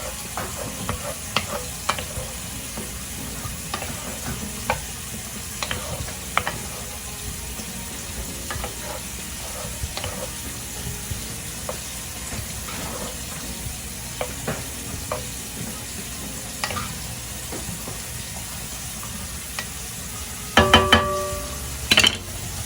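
Shrimp frying in a pan for low-carb shrimp tacos, a steady close sizzle with scattered crackles and pops, then a brief burst of sharper clatter near the end; no talking.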